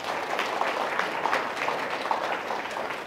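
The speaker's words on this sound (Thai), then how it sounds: "ขอเสียงปรบมือให้กับบรรดาสตาฟครับ" Audience applause for the staff at a closing address held at a Thai boutique hotel event: a steady wash of clapping from a crowd, moderately distant, continuous throughout with no clear voices over it.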